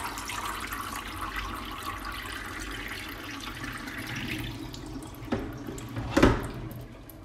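Water drains out of a basin holding a wet knitted garment, a steady splashing wash that ends in a couple of louder pours and drips near the close, with no voices.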